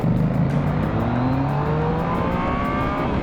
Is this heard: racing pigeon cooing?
no